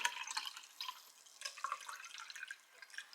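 Coffee is poured from a lidded container, heard as a faint, thin trickle with small splashes and drips that keep going the whole time.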